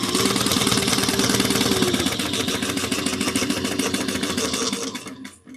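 Sewing machine back stitching a seam, a loud, close, rapid rhythmic chatter that runs steadily for about five seconds before stopping abruptly.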